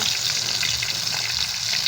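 Steady, dense sizzling and crackling of shanghai spring rolls frying in hot oil, close and continuous with no voices.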